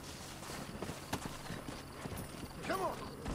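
Horse hooves clip-clop softly in Red Dead Redemption as the rider travels through open country, a faint irregular patter under low ambient game noise, with a short whinny-like call near the end.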